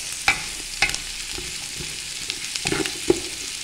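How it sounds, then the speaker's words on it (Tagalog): Garlic and onion sautéing in a pan for Filipino pinapaitan, a soft steady sizzle broken by a few sharp utensil clinks and stirring scrapes, close and fairly quiet, with no talking. "nagisa na mga guys. Nangamoy na yung ating bawang at saka ang ating sibuyas."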